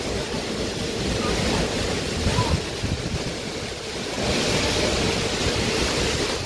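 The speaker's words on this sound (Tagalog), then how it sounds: "Sobra po ang lakas ng hangin." Strong typhoon wind roars in a continuous, loud, broadband rush across a rural yard with banana plants, buffeting the microphone in surging gusts that ease slightly mid-way and then build back up.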